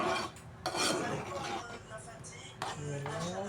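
Onion cream stirred in a pot over low heat, a spoon scraping and clinking against the pan in short repeated strokes, close and fairly quiet.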